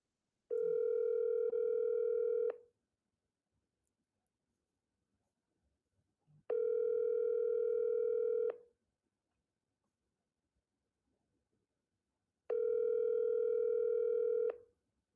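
A telephone call's ringing tone, a steady electronic purr lasting about two seconds, repeating three times with roughly four seconds of silence between rings.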